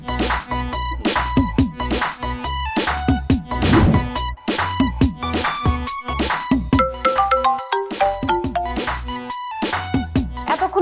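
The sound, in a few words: phone ringtone, incoming call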